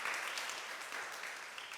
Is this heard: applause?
yes